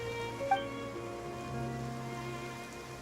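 Steady rain falls in Fontaine in Genshin Impact, a soft continuous patter with a gentle tonal music bed beneath it and no voices.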